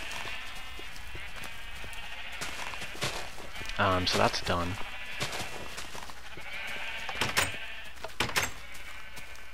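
Sheep in a Minecraft wool factory bleat a few times in short wavering calls amid light footsteps and clicks, while someone speaks briefly.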